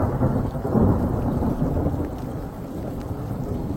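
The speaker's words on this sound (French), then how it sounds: "Mais grosse pluie quoi." Heavy rain during a night thunderstorm in Tunisia, a loud, dense and continuous roar of downpour with deep rumbling underneath, heard alone without voices.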